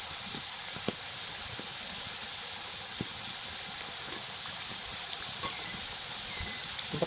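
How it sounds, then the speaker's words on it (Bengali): Kuli pitha made from wheat flour fries in hot oil, giving a steady, close sizzling hiss scattered with small crackles and pops throughout. "এরকম করে সবগুলো ভেজে নিচ্ছি।"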